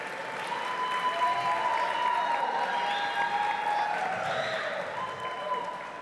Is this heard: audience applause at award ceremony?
yes